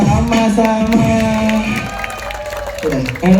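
A crowd at an outdoor food festival in Banjarmasin claps and cheers loudly, while a voice carries over the applause through a sound system.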